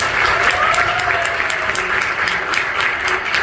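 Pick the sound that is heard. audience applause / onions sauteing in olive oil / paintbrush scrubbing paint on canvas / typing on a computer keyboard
audience applause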